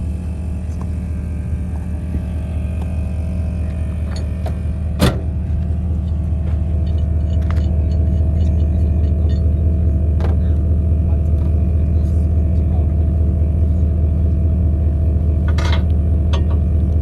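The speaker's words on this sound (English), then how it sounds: "I'm gonna use this kinetic rope to pull them out real quick" A recovery vehicle's engine rumbles low and steady nearby while it pulls a truck stuck in two-wheel drive out with a kinetic rope, its drone thickening slightly partway through, with a few faint clanks and no voices.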